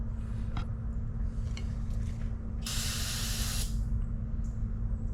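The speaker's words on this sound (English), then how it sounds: "I'm gonna have to clean the filters out. I didn't get new ones with the kit, but I'll spray those down real quick." A loud, steady hiss of spraying water cleaning juice mixer filters runs for about a second, standing out over a constant low machine hum.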